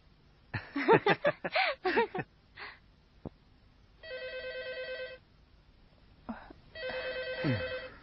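Telephone ringtone at a home, two bursts of a repeating electronic melodic ring, fairly close, following a stretch of soft laughter and chuckling voices.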